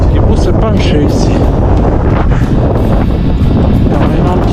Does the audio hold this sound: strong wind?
yes